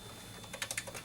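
A computer keyboard clatters with a quick, faint run of about half a dozen key presses, close up and alone, with no talking.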